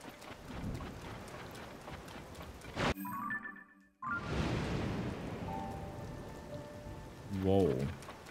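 Rain from a thunderstorm in The Legend of Zelda: Tears of the Kingdom falls as a steady hiss, cutting out for about a second before returning, with brief game chimes layered over the downpour.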